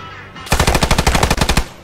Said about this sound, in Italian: Qualcuno vuole venire davanti alla mitragliatrice?